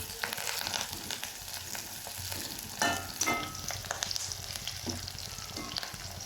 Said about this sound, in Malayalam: മാങ്ങ വറുത്ത് കോരുകയാണ്.